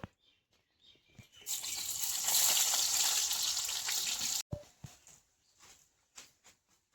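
Sliced onions for birista hit hot oil, a bright hissing sizzle that swells for about three seconds and then cuts off, followed by scattered clinks and taps from the pan.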